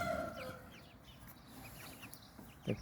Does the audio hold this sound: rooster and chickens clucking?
yes